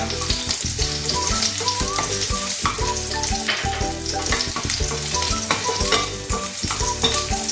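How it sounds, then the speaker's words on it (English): Ginger fries in a pan for a Japanese beef curry, a loud, dense sizzle running throughout with repeated scraping and clinking of a spatula as it is stirred, close up and with no speech. "I just need to add my ginger. Let's fry that for a few minutes."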